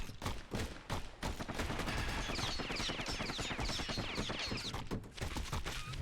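Rapid repeater gunfire from the video game Bastion, a dense, continuous volley of loud close shots with sharp bursts, sustained throughout over game music.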